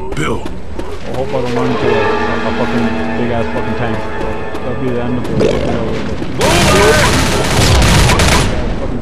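Bursts of gunfire and booming shots fill a Left 4 Dead match on Xbox 360, with rapid layered firing that grows louder and denser toward the end, under players talking.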